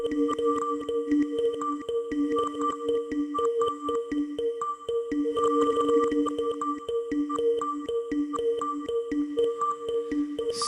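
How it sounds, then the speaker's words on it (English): A Qu-Bit Mojave synthesizer module plays steady pitched tones that pulse in a quick, stuttering rhythm, washed in reverb and sounding loud and continuous throughout. "And here we've got more of a reverb."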